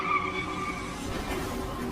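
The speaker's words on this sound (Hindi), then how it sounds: "ब्रेक फेल होने की वजह से उसका एक्सीडेंट हुआ" A car whose brakes have failed skids toward a crash, tires squealing in a sustained, shrill screech over a rough, grinding roar that holds steady throughout.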